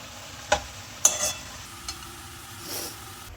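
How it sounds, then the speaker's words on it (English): Curry leaves hit a pan of cooking cabbage with a few sharp clanks and scrapes of stirring over a low steady sizzle, close up and without talk. "Let me add the curry leaves now."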